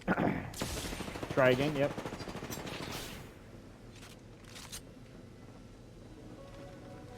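Rapid automatic gunfire with an R301 rifle in a video game, loud bursts for the first three seconds then fading to a few distant shots, with a voice speaking briefly.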